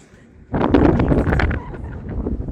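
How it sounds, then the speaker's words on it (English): Wind gusts across the open royal deck of the Royal Yacht Britannia in Edinburgh, roaring loud and close into the microphone after a quiet start, then easing into a steady buffeting rush. "It's a bit breezy."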